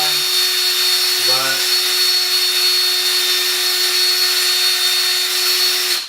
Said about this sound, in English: It may be beneficial to put your drill on a lower setting.